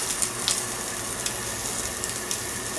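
Spare ribs roast in a covered iron pan, giving a steady, close sizzle with faint scattered crackles and pops throughout, and no talking.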